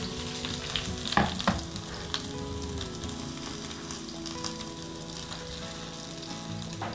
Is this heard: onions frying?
yes